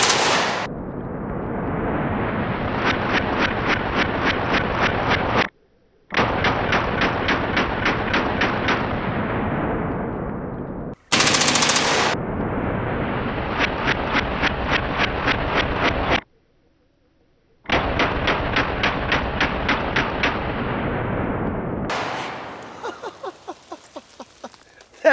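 A CMMG MKW15 rifle fires long, rapid strings of loud, close shots in several bursts with short pauses between them, ending in sparse scattered shots.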